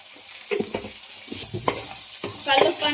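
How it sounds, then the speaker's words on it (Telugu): Spices being stirred and fried in a pan with rock salt and chili powder, giving a steady sizzle broken by several sharper scraping strokes from the spoon, close and fairly loud with no talking. "ఫస్ట్ వేసుకొని మొత్తం బాగా ఫ్రై చేసుకోవాలి"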